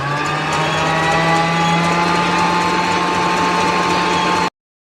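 An electric hand mixer whips eggs with sugar for a mirror cake, a steady high-pitched motor whine with a constant hum, running loud and unbroken for about four and a half seconds before it switches off.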